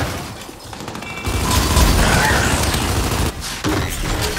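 Gunfire from the shooter video game Gears 5, in loud sustained bursts with booming impacts and a short break near the end, set against game sound effects.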